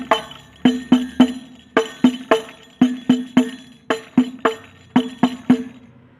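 Banjari habsy frame drum playing its basic pattern, key 1, in repeating groups of three sharp, close resonant strokes with short pauses between the groups, played alone.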